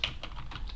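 A PowerShell command typed on a computer keyboard, a quick run of soft, close keystrokes tapping in an irregular rhythm.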